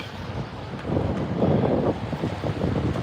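Gusty wind buffeting a microphone outdoors on a rainy walk around Edinburgh, a close low rumble that swells midway and stays strong.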